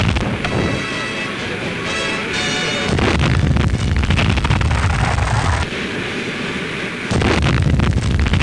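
The 32,000-ton battlecruiser HMS Repulse firing its 4-inch and 15-inch naval guns during battle practice, heavy booming blasts arriving in bursts over a rough, roaring background, loud and close.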